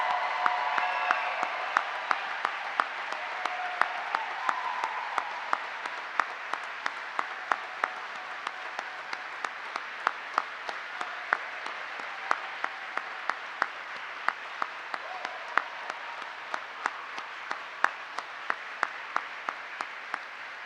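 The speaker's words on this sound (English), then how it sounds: "Please join me in a round of applause for the Army's newest aviation warfighters." At a U.S. Army flight school graduation for Class 26-017, a large crowd claps steadily for about twenty seconds, a sustained, even roar of applause punctuated by a few sharper individual claps.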